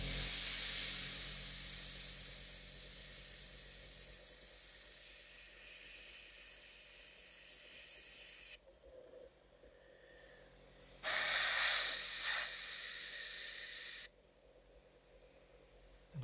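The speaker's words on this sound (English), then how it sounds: "I'm just going to go around with the airbrush very carefully" An airbrush hisses loudly as it sprays paint onto a Bandai 1/72 Millennium Falcon model, in two long sustained bursts separated by a quieter pause.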